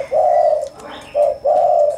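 A freshly wild-caught turtle dove cooing loudly and close, three drawn-out tonal coos with short pauses between, alone without talk.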